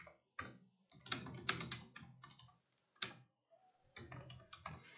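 Typing HTML code on a computer keyboard: close, quiet bursts of rapid key clicks separated by short pauses, with no voice.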